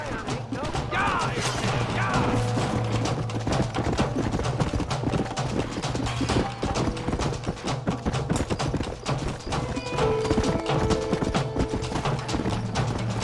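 Horses' hooves clip-clop steadily in the Red Dead Redemption video game, a continuous dense clatter of many hoofbeats under ambient noise and occasional voices.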